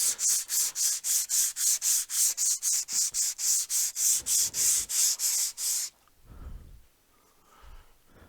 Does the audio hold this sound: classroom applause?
no